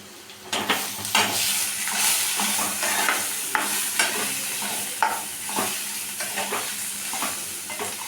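Chicken masala with green chillies and chilli powder sizzles in a pan while a spoon stirs and scrapes it in repeated strokes, close and steady with no talking.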